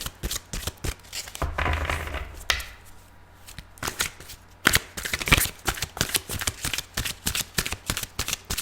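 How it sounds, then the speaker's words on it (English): Tarot cards are shuffled repeatedly up close: riffling bursts, a brief quieter pause, then rapid sharp snapping cuts in a quick, uneven rhythm. "Please fast forward if you don't want to listen to me shuffle."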